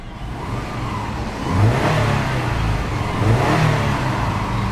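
A 2009 Subaru Forester XT Limited engine revs up loudly in two surges, its roar swelling and easing back toward a steady hum.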